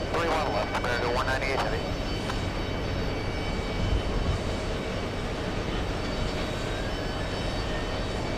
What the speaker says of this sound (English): Lufthansa 404 on final approach